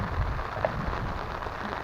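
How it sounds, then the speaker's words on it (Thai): Rain falling at a natural fishing pond on a cold day, a steady soft hiss of drops spread evenly throughout with no talking. "ฝนตกแล้วนะครับ"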